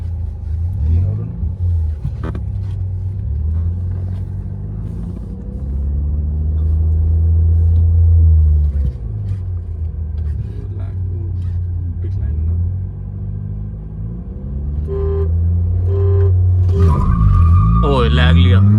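Skoda Laura TSI and VW Vento TSI, both Stage 1 tuned, launch side by side in a drag race, their engines droning and rumbling loudly and steadily throughout, with the pitch rising as they accelerate and voices talking over the engines.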